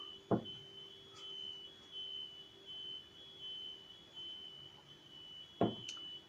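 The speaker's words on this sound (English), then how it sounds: "I'm going to see what that alarm's all about" A sharp electronic beep, then a second one about five seconds later, with a faint steady high-pitched tone running underneath.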